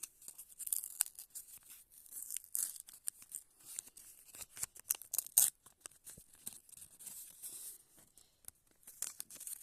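Paper tearing and crinkling in short, repeated rips close by, with a sharper tear partway through and soft handling rustle between.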